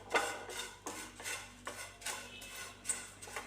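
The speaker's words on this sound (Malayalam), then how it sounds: "ഇനിയിപ്പോൾ നമുക്ക് ഒരു പാൻ അടുപ്പത്ത് വെച്ചിട്ട് ഈ അവയലിനെ ഒന്ന് ഡ്രൈ ഫ്രൈ ആക്കിയിട്ടെടുക്കാനുണ്ട്" Red flattened rice is dry fried in a pan over a low flame, with rhythmic scraping and stirring strokes and light rustling of the dry flakes, about one stroke every half second, faint and close.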